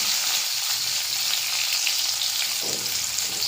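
Dried red chillies and mustard seeds frying in hot oil, a dense close sizzle and crackle with a short stir near the end, no talking.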